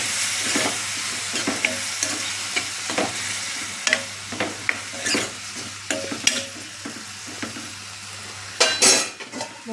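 Tomato curry stirred in a pan over a low flame after salt goes in, a spoon scraping and clinking against the metal in repeated strokes over a continuous close sizzle, with no talking.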